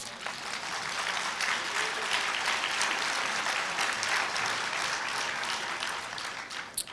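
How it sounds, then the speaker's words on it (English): Graduation audience at a 2013 WGU Indiana commencement clapping and cheering, a dense, steady roar of applause filling the whole stretch, loud and sustained without letup. "that's your invitation to clap and scream for whoever you'd like to clap and scream for"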